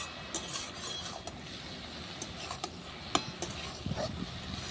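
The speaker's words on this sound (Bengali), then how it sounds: "এবার একবার নেড়ে দেবো" Water spinach is stirred in a pan over a clay stove, giving quiet, scattered scraping clicks and soft spatula knocks over a faint, constant frying hiss.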